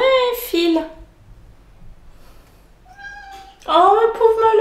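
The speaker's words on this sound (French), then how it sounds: "Voilà mon petit chat." A small cat meows close by, a couple of drawn-out cries separated by a quiet pause, with a voice talking around them.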